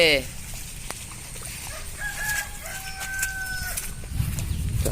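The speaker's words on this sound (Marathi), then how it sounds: "कोंबडा बोले" A rooster crows at a distance, a drawn-out rising call standing out over steady outdoor background noise.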